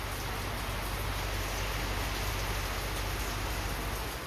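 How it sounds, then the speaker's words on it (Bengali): Heavy rain pours down outside, a dense, steady wash of noise that stays loud and unbroken from start to finish with no voices. "দেখো বাইরে নেমেছে কি বৃষ্টি।"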